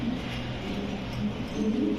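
Dense, continuous cooing from many pigeons at a pigeon farm, a low rolling murmur close by with no talking.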